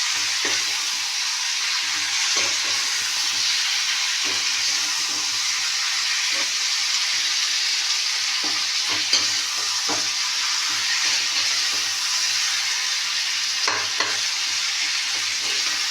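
Garlic frying in a pan for egg curry gives a loud, constant sizzle, broken by soft, regular stirring taps.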